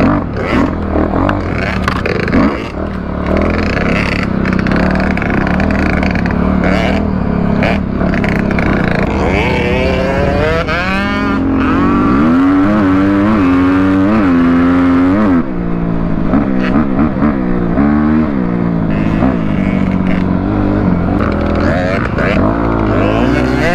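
A two-stroke dirt bike engine revs on Florida woodland trails at Croom. Its pitch rises and falls in repeated close sweeps, with talk over the engine noise.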